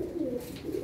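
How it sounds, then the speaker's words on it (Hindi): A black pigeon coos in one low, rolling, throaty phrase, close and steady. "काला कबूतर है"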